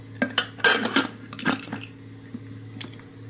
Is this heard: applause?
no